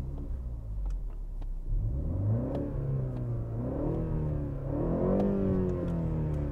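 BMW 330i Touring G21 with a 258 PS four-cylinder petrol engine, blipped from idle: a steady low rumble that swells twice into short rising revs and settles back, close by with no talking.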